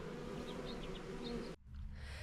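Honeybees buzz steadily around a newly filled backyard hive, a dense continuous drone with no voices, cutting off abruptly near the end and leaving quieter buzzing.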